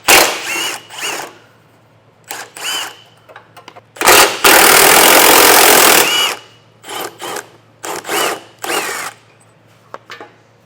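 A power tool whirs in short repeated bursts while removing exhaust bolts on a 2019 Cadillac XT4, then runs in one longer sustained grind before returning to brief pulses, close and loud.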